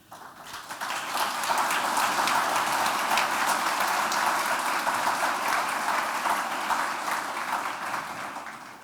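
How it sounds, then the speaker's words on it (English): A crowd applauds steadily for several seconds, a dense even patter of clapping that swells in quickly and tapers slightly at the end. "As I see you clap and hear you clap"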